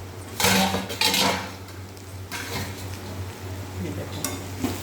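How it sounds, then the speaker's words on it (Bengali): A metal lid lifts off a pot of chickpeas and pumpkin boiling on the stove, sounding as a couple of loud clanks and scrapes near the start, followed by a steady low hum and soft bubbling, with no talking. "ঢাকাটা আবার তুলে দেবো।"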